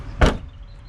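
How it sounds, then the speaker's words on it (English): The boot lid of a 2017 Suzuki Ignis gives a single short, muffled thud as it opens, followed by quiet background. "When I open the boot, I've taken the parcel shelf out."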